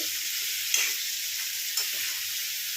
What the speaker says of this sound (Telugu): మొత్తం మంచిగా కలుపుకోండి